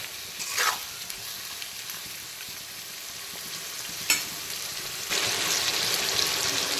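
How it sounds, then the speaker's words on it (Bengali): Chopped onion and tomato fry together in a pan over a low-to-medium flame, a steady soft sizzle with occasional louder scraping stirs, heard close and alone without speech. "এখন আবারও 3-4 মিনিট সময় নিয়ে পেঁয়াজ আর টমেটোটাকে একসঙ্গে লো টু মিডিয়াম আঁচে অল্টারনেট করে করে কষিয়ে নেব"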